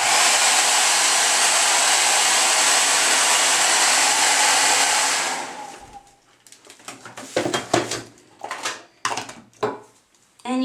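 Hair dryer blowing over hairspray-set hair, a loud steady whoosh for about five seconds that cuts off, followed by scattered light handling knocks and rustles.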